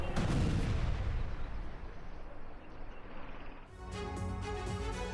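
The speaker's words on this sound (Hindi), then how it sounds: "इस बीच बेरूत के दाइया में भीषण बमबारी हुई है।" Heavy Israeli airstrike bombardment in Beirut's Dahiyeh district, captured in news footage: a loud, dense rumble of blasts and crackling fills the first few seconds, then fades beneath a steadier tonal background.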